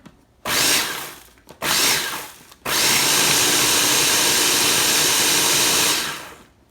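A kitchen grinder pulsing peppers and aromatics into red curry paste, two short loud whirring bursts followed by one longer continuous grind that cuts off abruptly.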